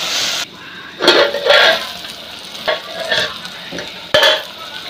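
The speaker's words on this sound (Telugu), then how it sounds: "ఇది చక్కగా కలుపుకోవాలి, అంటే మాడనుకుండా." Vegetable curry stirred in a pan so it does not burn, with a close spoon scraping in several short strokes over a soft sizzle.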